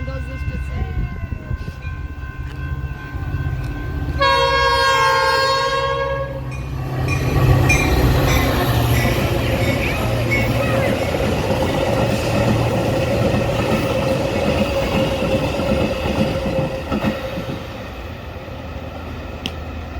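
Metra commuter train passing at Clarendon Hills, opening with a loud multi-tone horn blast, then a sustained rumble and rattle of railcars rolling close by for the rest of the span, with a voice briefly heard near the start.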